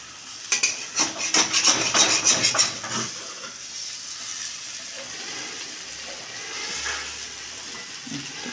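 Vegetable poriyal roasting in a little oil in a pan, with a burst of scraping, stirring clatter and sizzle for the first few seconds, then a quieter steady frying hiss.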